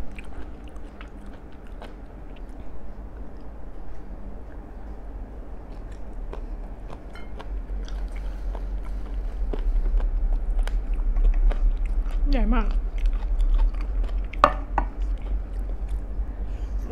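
Close, steady chewing and biting on tough, rubbery grilled long-tentacle squid, with repeated wet crunching and squishing bites over a low background hum; a few faint clinks of dishes come through near the end.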